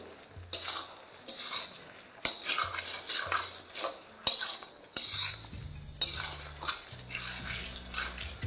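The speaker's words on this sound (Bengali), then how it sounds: "ওই সব কিছুকে আমি ভালো করে একবার মিশিয়ে নেবো" A spoon scrapes and clinks against a bowl while garlic prawn noodle sauce with MSG is mixed, close and irregular, with short bursts of metal-on-ceramic knocks and stirring.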